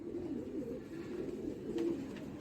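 Soft, low cooing from high-quality Tonk breeding pigeons, a faint murmuring call repeated over a couple of seconds with no voices.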